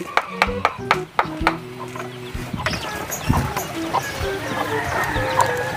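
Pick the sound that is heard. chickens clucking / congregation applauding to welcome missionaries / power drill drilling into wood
chickens clucking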